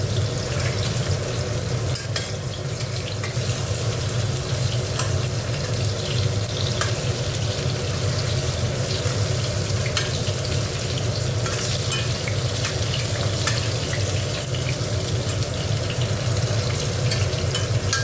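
Potatoes sizzling as they fry in hot oil in a home kitchen, a continuous crackling hiss with occasional stirring scrapes, steady and close with no talking.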